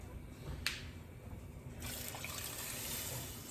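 Water pours from a tap or container into a cooking pot for jambalaya, a soft continuous splashing rush that starts after a brief clink and keeps going steadily, fairly faint and with no talking.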